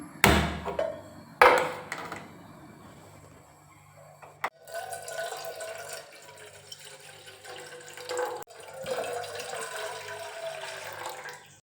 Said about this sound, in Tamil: நான் இந்த கிளாஸ் எடுத்தனால 1/2 கிளாஸ்க்கும் அதிகமாக தண்ணி ஊற்றிக்கிறேன்